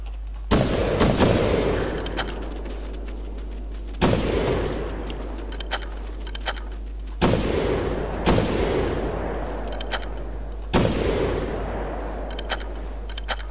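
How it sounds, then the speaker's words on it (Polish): Four loud, sharp rifle shots ring out several seconds apart during a turkey hunt in the video game The Hunter, each with a long echoing decay over a steady low hum. "kiedy już wystrzeliłem te trzy strzały"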